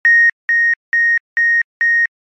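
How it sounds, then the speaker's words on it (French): Five identical electronic beeps in a steady, evenly spaced sequence, loud and clean against silence, like a censor bleep. "mette des bips là-dessus"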